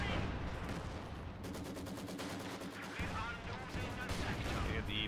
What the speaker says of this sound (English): we see some mortar shots flying all over the place